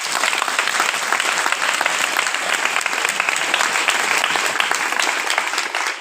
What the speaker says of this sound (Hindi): हाँ, ताली बजा देंगे।